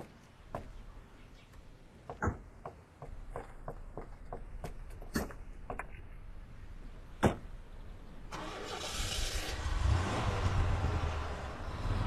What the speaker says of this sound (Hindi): चलो अब जल्दी गाड़ी स्टार्ट करो